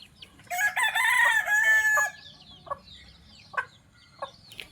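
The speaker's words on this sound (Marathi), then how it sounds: "खूप साऱ्या कोंबड्या आहेत आमच्याकडे बरं का." Chickens on a village farm: a loud, close rooster crow carries for over a second, followed by scattered hen clucks and short calls against a quiet outdoor background.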